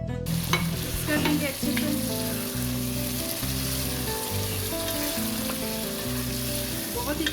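Achari chicken browning in spices as tomato puree is added gives a steady sizzle with occasional stirring scrapes, set against background music, with a voice speaking briefly.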